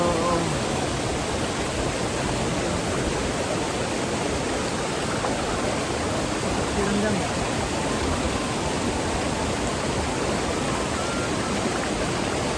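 Awao Falls pours in a continuous, even rush of falling water, a dense broadband roar that stays steady and fairly close throughout with no breaks.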